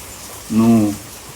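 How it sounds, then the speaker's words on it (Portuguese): A steady, soft hiss of falling rain runs throughout, briefly overlaid in the middle by a short voiced hum. "vai ficar um pouquinho, né, com o som de chuva"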